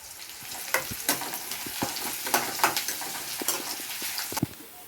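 Red onion slices and garlic cloves frying in oil with mustard, cumin and fenugreek seeds, a close, crackling sizzle broken by frequent spatula scrapes and stirring.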